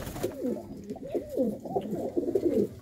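Domestic pigeons coo in a steady run of soft, throaty calls, several birds overlapping close by in a backyard loft, with faint background noise and no talk.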